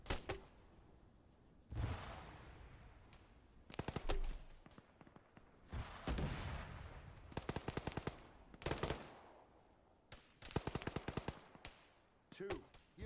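Bursts of machine gun fire in Arma 3 rattle out repeatedly, several sharp volleys spaced across the stretch with quieter gaps and faint radio-style voices between.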